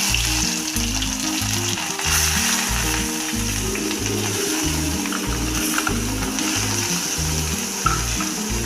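Finely grated onions sizzle in hot oil in a kadai while a Punjabi-style paneer masala is cooked. The frying is a steady, close hiss throughout, with a low rhythmic thumping underneath, probably music.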